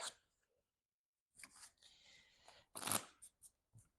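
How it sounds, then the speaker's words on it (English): Cards of a deck being shuffled by hand during a Marvel Champions tabletop card game, with a couple of short riffling bursts and light card clatter, followed by a few quick taps, near and fairly quiet. "Okay, shuffling her deck."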